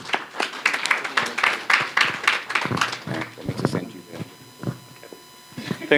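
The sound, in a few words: audience applause for a speaker at a conference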